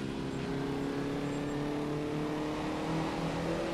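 A Formula Vee race car in rFactor 2, on the Guaporé track, holds a steady, loud engine drone with a sustained buzzing tone that rises slightly near the end, heard alone without talk.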